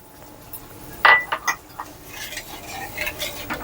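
Thin milk stirred into a Bengali rui fish malai curry in a pan, with a sharp clink of utensil on metal, then soft scraping and gentle stirring strokes at close range, fairly quiet overall.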